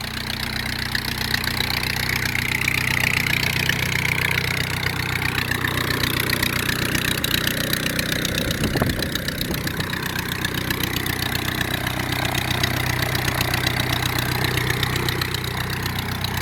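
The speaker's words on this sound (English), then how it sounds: "You can see the Model A's running there." A Ford Model A engine on a 1934 Pietenpol Aircamper aircraft idles steadily, a continuous low throbbing rumble that holds constant throughout with no voices.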